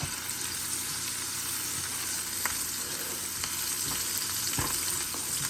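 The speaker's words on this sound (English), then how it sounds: "Sauteing the onions, peppers." Onions and peppers sauté in a pan for a homemade cheesesteak: a dense, constant sizzle with occasional clicks and scrapes of stirring, close and steady.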